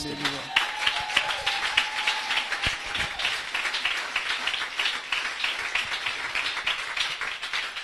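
Congregation in a church clapping together in a steady rhythmic beat, dense broadband claps filling the room with voices and singing mixed underneath throughout.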